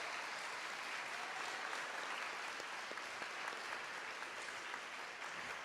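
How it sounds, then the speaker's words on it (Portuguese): A church congregation applauding during a sermon, a dense, even wash of many hands clapping heard at a distance and fairly faint, steady throughout with no speech over it. "pode aplaudir a Jesus por isso"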